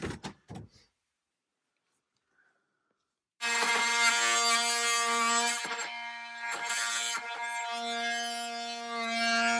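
An oscillating multi-tool cuts steadily during wall framing work near a window, starting abruptly after a few faint knocks and quiet, then running loud and continuous with a strong buzzing whine and slight changes in pitch as it bites.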